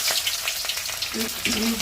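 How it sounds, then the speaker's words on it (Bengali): Onions frying in hot oil spiced with whole garam masala for a Bengali chicken curry, a steady close crackling sizzle with scattered pops and light stirring, and brief muffled sounds near the end. "এই পেঁয়াজটা আমি ভেজে নিচ্ছি"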